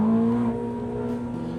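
Ferrari 849 Testarossa Assetto Fiorano on a track, its engine a steady loud droning hum heard from inside the car, holding a constant pitch for a short stretch with no talking.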